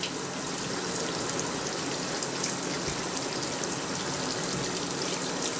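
Steady running water gushes continuously during a pet monkey's bath, a constant broadband wash of flow from a tap with no pauses or talk.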